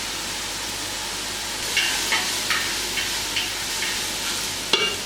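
Vegetables frying in a pan with a steady close sizzle and hiss, broken by several soft stirring scrapes and a sharper clatter near the end.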